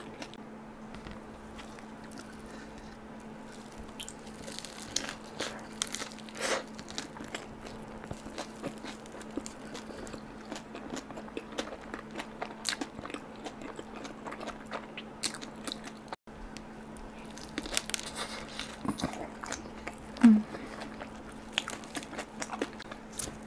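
Domino's cereal chilli crab pizza being bitten and chewed up close, with crisp crunches and soft wet mastication sounds repeating in uneven bursts over a quiet background.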